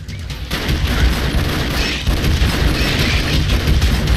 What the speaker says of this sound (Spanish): Ya voy a ir precedido por granadas